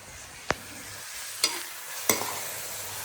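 Onions frying on high flame for dal fry hiss steadily in a pan, with three sharp, close scrapes of a stirring spoon spaced about a second apart.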